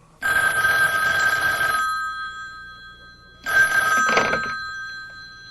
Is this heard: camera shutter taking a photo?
no